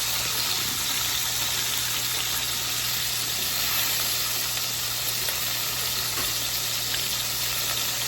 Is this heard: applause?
no